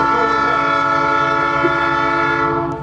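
A train horn blares loud and close, held as a steady sustained tone through nearly the whole stretch, with the rumble of the passing train beneath it and a slight fade at the end.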